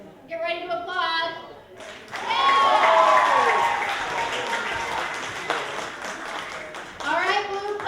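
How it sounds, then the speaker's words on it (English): An audience at a comedy sports match breaks into loud, sustained applause and cheering after a brief burst of speech, with voices rising again at the end. "Get ready to applaud."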